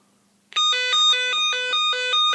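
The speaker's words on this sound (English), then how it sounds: "after 3 seconds we should get an alarm" An electronic security alarm sounds once a reed switch in its circuit is opened: a loud, steady, multi-tone electronic beeping pattern that pulses in a regular rhythm and starts abruptly from near silence.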